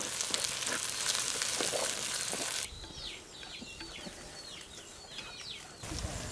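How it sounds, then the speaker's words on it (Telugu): Ginger paste and tomatoes sizzle while being stirred in a pan for gongura chicken curry, a loud broadband frying hiss that drops suddenly partway through to a quieter sizzle with faint chirping sounds. "అల్లం పేస్టు, వెంటనే టమాటాలు వేసుకుని బాగా కలుపుకుందాం."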